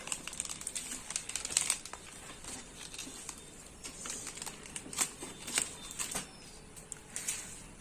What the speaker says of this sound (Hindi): जो स्कैनिंग एरिया है उसको भी पन्नी से ढका गया है। मैं इसको हटा देता हूँ।